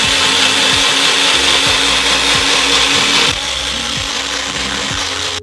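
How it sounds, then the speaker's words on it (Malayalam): A blender grinds Royal Gala apples for juice, a loud continuous motor whir with rhythmic chopping thumps that drops slightly in pitch and level partway through. "ഇത് ആപ്പിൾ ഇനി നമുക്ക് ഇതിനെ ഒന്ന് ഗ്രൈൻഡ് ചെയ്തെടുക്കാം."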